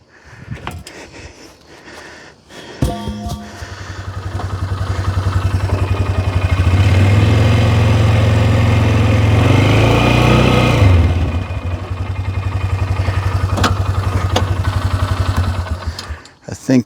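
A pickup truck's engine starts and runs steadily up close, a loud continuous rumble that rises and holds before settling to an idle, with talking over parts of it.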